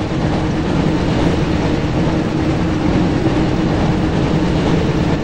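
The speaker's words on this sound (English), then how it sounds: "like we found the train, Ron." A train rumbles past continuously in the PlayStation game Harry Potter and the Chamber of Secrets, loud and close, with a steady heavy roar and faint rhythmic clatter throughout.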